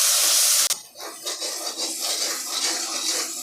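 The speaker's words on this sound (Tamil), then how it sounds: "இதை நல்லா இப்படி கிளறி விடுங்க." Onion paste is stirred in an iron pan for country chicken varuval, with scraping and clinking of a spoon against the metal over a steady sizzle. The scraping comes in several bursts, close and fairly loud, with no talking.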